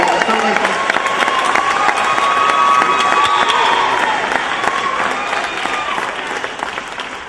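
An audience at a Juneteenth honorary father awards presentation breaks into steady applause, dense and sustained, fading slightly near the end, with a voice faintly heard over the clapping.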